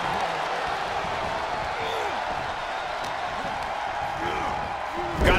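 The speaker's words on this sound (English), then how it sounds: "Luke drawing a big reaction from the crowd." A video-game wrestling arena crowd in WWE 2K24 during a tag team match, a steady broad roar of spectators with a swell at the end, heard alone without commentary.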